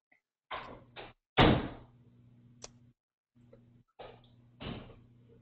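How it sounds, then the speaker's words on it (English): A garage door opening: a motor hums steadily with a brief pause, broken by several sharp clunks and knocks of the door moving, fairly close in a quiet room, no talk. "my garage door is opening"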